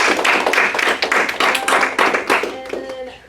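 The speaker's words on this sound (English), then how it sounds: "just like one more big round of applause for everybody who presented." An audience applauds presenters at a live session in a room, a close burst of clapping that fades toward the end, with a voice talking over it.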